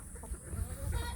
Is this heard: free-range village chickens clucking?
yes